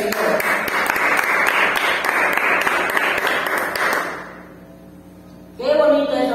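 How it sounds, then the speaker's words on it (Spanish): A church congregation claps loudly and steadily through a prayer service, the dense applause fading out near the end before voices rise again. "Fuerte el aplauso para el Señor."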